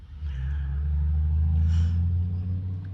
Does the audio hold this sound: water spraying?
no